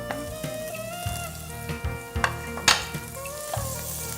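Butter melting and sizzling in a restaurant pan where ingredients are browning lightly before risotto goes in, a continuous crackling fry broken by several sharp scrapes and knocks of a wooden spoon.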